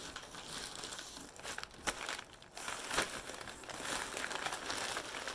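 Tightly wrapped package paper is crinkled and torn open up close, a continuous crackling rustle with a few sharper rips, fairly quiet and without talk.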